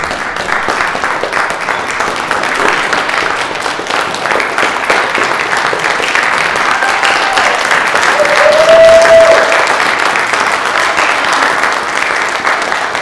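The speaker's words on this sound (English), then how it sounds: "can we stand up and give them a round of applause, please," Loud, steady audience applause for a group of young Black men at a workshop on Black men in antiquity, continuous clapping with a brief whistle or voice rising midway.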